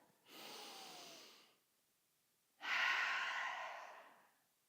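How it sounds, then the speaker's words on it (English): Two slow breaths near the mic during prenatal yoga: a softer inhale followed by a louder, airy open-mouthed cleansing exhale, with quiet between them. "One more cleansing breath."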